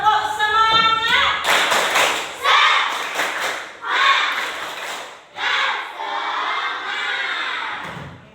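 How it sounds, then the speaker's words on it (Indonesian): A school class performs a rhythmic tepuk semangat chant, with children's voices shouting in unison and sharp group claps landing in a patterned beat. Each phrase is separated by brief pauses, loud and close in the room. "mari kita tepuk semangat dulu."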